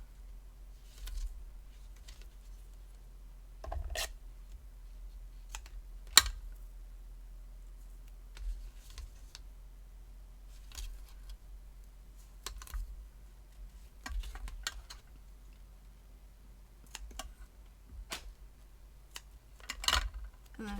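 Quarter-inch tape pulled and pressed onto the envelope of a butterfly-themed birthday card, giving soft, scattered crinkles and taps. A few sharper clicks stand out against faint room hum.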